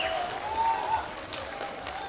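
Crowd at a beach volleyball main draw semifinal in Shanghai cheers and claps after a player celebrates, a steady mid-distance wash of applause with a commentator's voice over it.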